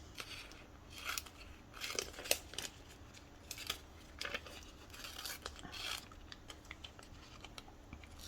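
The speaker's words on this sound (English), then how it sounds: "So I'm going to cut it a little bit bigger." Scissors snip through paper while trimming a piece for a handmade cat shaker card, a quiet scattering of short crisp cuts and rustles close by, with no talking.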